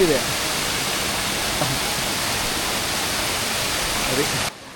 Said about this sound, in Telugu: ఇలా కూర్చొని వాటర్ ఫాల్స్ అంతా ఆస్వాదిస్తున్నాము